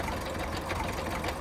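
A Belarus tractor engine runs close by with a steady, continuous mechanical rattle and hum, and no voices over it.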